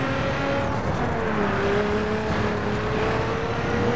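Car driving along open roads in the video game The Crew Wild Run: a loud, steady engine drone that rises gradually in pitch as the car accelerates, with road rumble underneath and faint tire noise.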